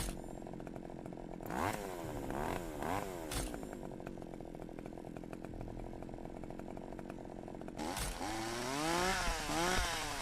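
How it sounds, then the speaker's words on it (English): Chainsaw from the horror video game Cursed Digicam, revving loudly and continuously with rising and falling engine whines over about ten seconds, close and alone with no talking. "Oh, that's just a chainsaw on the floor, you bastard."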